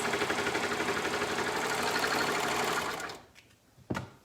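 Sewing machine stitching a hem from the bottom fold upward, a steady, fast mechanical whir running loud and continuous before stopping abruptly, followed by a quiet pause and one short sharp click.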